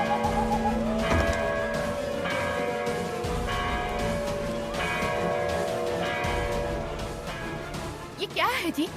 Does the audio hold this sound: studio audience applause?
no